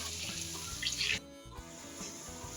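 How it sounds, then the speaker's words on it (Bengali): Potato pieces deep frying in hot oil for a crispy Bengali aloo bhaja, a dense steady sizzle and crackle that briefly cuts out, then resumes at an even level. "দেখুন, আমি গরম তেলের মধ্যে দিয়ে দিয়েছি।"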